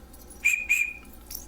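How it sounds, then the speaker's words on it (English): Two short, shrill toots blown on an emergency survival whistle ring out clearly over a faint room background, close and bright. "that's a tiny little toot into the whistle"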